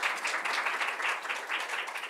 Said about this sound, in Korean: 큰 박수로 받겠습니다